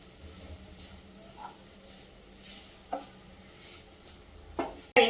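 Sweet potato shira stirred and fried in a hot pan for a fasting sweet: soft, intermittent scraping and light sizzling, faint and close, with a few sharper knocks of the spoon near the end.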